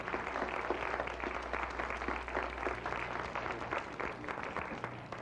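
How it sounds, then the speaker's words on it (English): Round of applause from an audience at a live children's stage show, steady dense clapping held fairly faint and continuous throughout, with no speech over it. "Big round of applause for the Capital Center."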